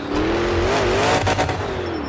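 A monster truck engine roars during an arena freestyle run, holding a loud, sustained rev with a slight rise and fall in pitch and no speech.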